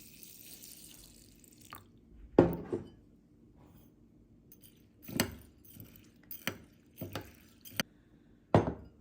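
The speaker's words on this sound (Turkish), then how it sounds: "Öncelikle kara buğdayımızı yıkıyoruz." Buckwheat being rinsed in water in a kitchen: several separate splashes and sloshes with small clinks of grain and vessel, spaced irregularly over a quiet background with no talk.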